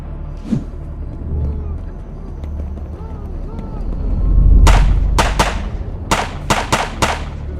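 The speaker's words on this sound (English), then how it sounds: "The artillery conducted intense shelling of the coastline." Artillery shelling a coastline, heard as a series of sharp, loud blasts in quick succession in the latter half, following a low rumbling background.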